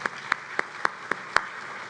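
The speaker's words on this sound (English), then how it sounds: "One more round of applause for Tony Coulson," Sparse, isolated claps from an audience honoring Tony Coulson at a CAE designation ceremony during the NICE Conference and Expo 2023, about six sharp hand claps spread irregularly over a quiet, moderately distant room.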